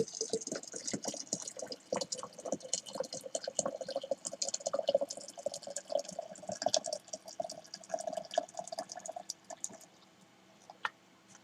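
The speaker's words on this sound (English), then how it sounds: "And then I'm going to top it off with some more water." Water is poured into a container to top off a homemade hooch mix, a faint, steady trickle with scattered drips and splashes that tapers off near the end.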